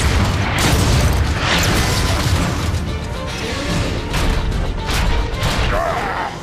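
Airstrike explosions in Transformers: Fall of Cybertron: a dense, continuous rumble of booming blasts and crashing debris that stays loud from start to finish.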